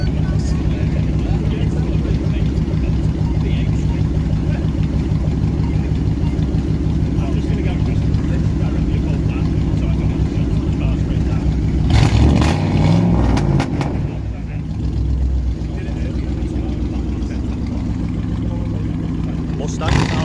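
A Ford Mustang engine idling as it warms up at a UK car meet, with a loud, steady low rumble and a short rougher burst partway through, while people talk nearby.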